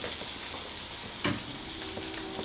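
Spicy sausages fry in a pan on a stove, a steady close sizzle with a brief louder spatter midway as they are turned.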